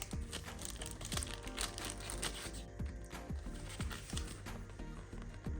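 Paper packing around a Tekhmann laser level is handled and pulled open, making quiet, close crinkling and rustling with a run of evenly spaced soft thumps over a faint steady hum.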